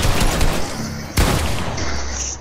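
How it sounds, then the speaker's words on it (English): Rapid bursts of gunfire in a Fortnite 2v2 box fight, loud and close, with a sharp volley cutting in midway and firing continuing after it. "How do you shoot faster than me?"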